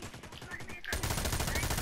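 Gunfire in the video game America's Army: Proving Grounds, with rapid rattling shots that grow louder and denser partway through and continue as a close, sustained burst.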